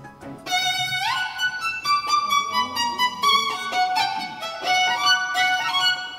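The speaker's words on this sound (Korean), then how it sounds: "현악기에서 높은 소리를 연주할 수 있는 바이올린의 소리를 한번 들려드리도록 할게요" A solo violin plays a bright, high melody in a small classical trio performance setting, with clear sustained bowed notes and quick runs, heard close and alone without talk.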